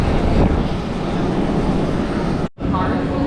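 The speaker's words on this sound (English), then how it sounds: "we boarded Austrian Air for a quick 30-minute flight to the city of Zadar, Croatia." Steady, loud broadband roar of an Austrian Airlines airplane on a short flight to Zadar, Croatia, heard from inside the cabin, with one brief dropout near the end and a voice blended into the noise.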